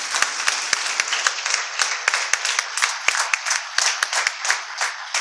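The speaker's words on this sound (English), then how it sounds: "Let's have a big round of applause once again for Arunima." Audience applause at a talk on positive thinking: a dense, steady round of clapping with many sharp overlapping claps, sustained and fairly loud throughout, with no speech over it.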